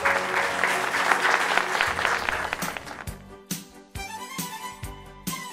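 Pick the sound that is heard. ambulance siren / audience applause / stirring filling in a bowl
audience applause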